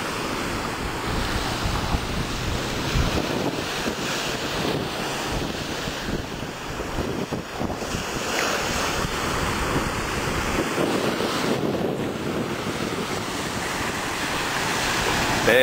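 Ocean waves and surf roll steadily onto Punaluu Beach in Hawaii, a broad, continuous wash of breaking water mixed with heavy wind rumble buffeting the microphone throughout.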